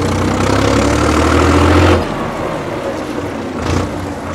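A 1992 Case IH 495 farm utility tractor runs close by as it shifts gears, its engine droning loudly, then dropping in pitch and level partway through with a brief change near the end.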